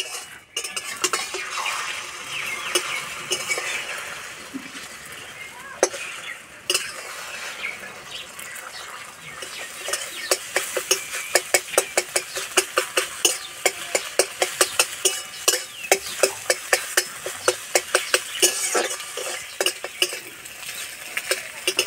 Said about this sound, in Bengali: ডিমটা ঝুরু ঝুরু করে ভেজে নেব।